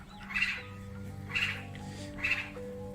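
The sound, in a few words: birds singing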